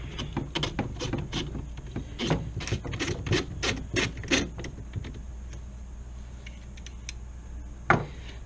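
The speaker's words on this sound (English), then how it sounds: "So try not to pinch that spring when you're putting your mag tube back on, threading it back on." Magazine tube being threaded back onto a Franchi SPAS-12 shotgun, with a series of close scraping, rubbing metal twists that come in irregular bursts and then stop, followed by a single sharp knock near the end.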